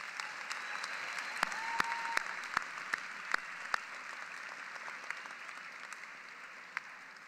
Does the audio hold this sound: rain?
no